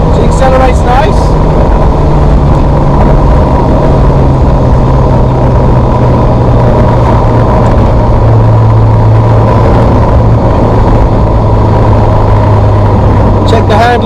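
Ferrari 348 engine running steadily and close, a sustained droning note that holds and shifts slightly in pitch as the car accelerates, with no talk over it.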